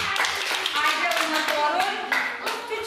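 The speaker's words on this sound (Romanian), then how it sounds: "să-l aplaudăm și pe Dracula" Children's applause at a Halloween costume event, dense clapping running steadily throughout, close and loud, with voices chattering over it.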